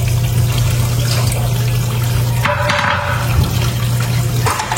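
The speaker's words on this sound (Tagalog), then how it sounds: "Hugasan ko na po itong karne para masangkot siya na muna po" Meat for chicken menudo is rinsed under a loud, continuous stream of running tap water that splashes steadily throughout, close to the microphone.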